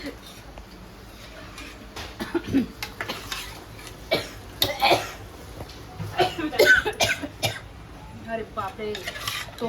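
Repeated harsh coughing fits while spicy mutton masala cooks, mixed with clattering pot and utensil sounds and some voice, close by.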